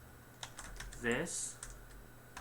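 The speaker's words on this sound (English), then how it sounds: "and I will just type in" Computer keyboard typing as text is entered into a map layout, a short run of soft key clicks under a voice saying a word.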